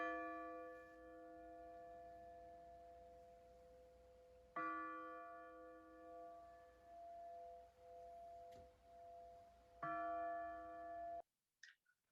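An untuned church bell cast by Thomas Bond in 1927 rings three times, each strike a sharp clang that hums and wobbles with sour, clashing overtones as it decays. The last ring is cut off abruptly.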